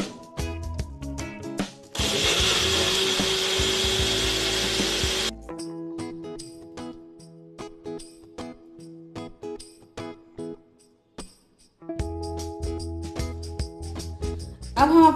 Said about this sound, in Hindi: चलिए अब हम इसको ब्लेंड कर लेते हैं।